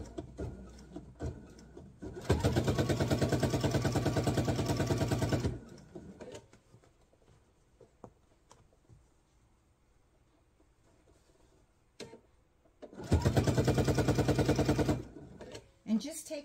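A sewing machine stitches apron fabric close to the edge in two loud, steady bursts, each lasting a few seconds, with a person talking during the quiet stretch between them.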